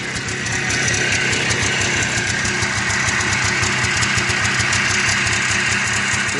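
A Trail Boss engine idles after a cold start with a steady, close, loud chugging putter and an even rhythmic pulse. Nobody talks.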